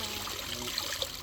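Spring water running steadily over rocks outdoors at Lourdes, France, a continuous soft trickle and splash throughout with a few faint droplet pings, no talk.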